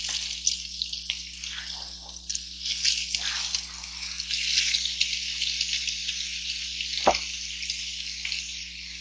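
Crumbled sausage meat sizzles in a warm pan on medium heat, a steady soft hiss with faint crackles and pops and one louder scrape partway through, quiet and close with no talking.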